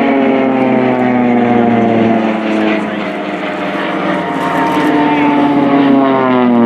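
Swiss Air Force Pilatus PC-7 propeller planes fly a close solo crossing at the RIAT 2018 air show, producing a loud, steady, droning propeller roar that swells and sustains.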